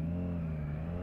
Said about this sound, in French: Ah, la sonorité Triumph, j'adore.